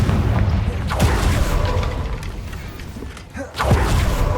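A Confringo blasting curse cast in Hogwarts Legacy, heard as a booming burst near the start followed by rumbling, crackling magic, with a second sharp blast hitting toward the end; no talking.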